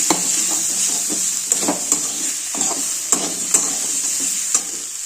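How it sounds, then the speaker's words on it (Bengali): Turmeric is stirred into food frying in a pan: a bright continuous sizzle sits under repeated scraping and tapping strokes of a spoon against the pan, close and fairly loud, with no speech. "এবার এর ভিতরে দিয়ে দেবো এই হলুদটা হলুদটা দিয়ে বেশিক্ষণ নাড়াবো না"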